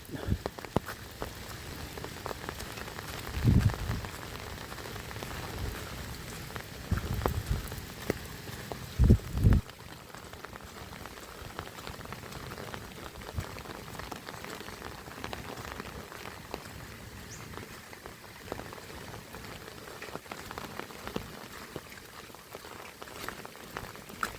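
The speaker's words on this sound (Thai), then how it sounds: "คือว่าฝนตกอยู่ตลอด" Heavy rain pours steadily over a rice field of sprouting rice amid flooding, a dense, even hiss of drops with a few louder close spatters early on, continuing without any voices.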